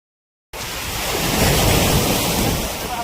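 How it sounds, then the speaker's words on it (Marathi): Sea waves roll in along the shore at Dhanushkodi on the Indian Ocean, a steady, loud, broadband wash of surf mixed with wind that starts abruptly after a brief silence and holds constant with no talking. "इकडं माझ्या उजव्या साईडला एक समुद्राचा भाग आहे."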